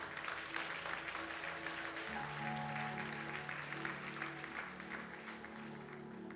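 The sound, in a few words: congregation applauding in church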